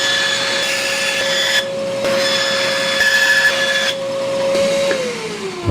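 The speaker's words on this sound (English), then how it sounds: "I am gonna have to trim off these handles though" Plastic handles being trimmed off a cheap trash can lid, a steady powered cutting whine with bursts of rasping cutting noise that stop and start, close and loud, ending as the tool winds down.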